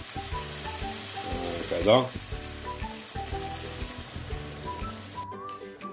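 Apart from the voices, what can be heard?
paella with red mullet sizzling in pan, deglazing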